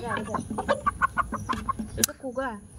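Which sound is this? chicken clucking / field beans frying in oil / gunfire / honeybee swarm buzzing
chicken clucking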